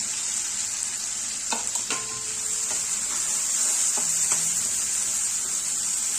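Ground masala of coconut and sesame sizzles steadily in hot oil in a kadai for chicken curry, a continuous close fry with a few soft stirring scrapes and clinks.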